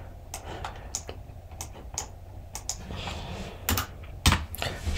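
Someone types on a computer keyboard, entering text in the Canva design tool. Crisp keystrokes come close up in irregular clusters and quick runs, with no speech.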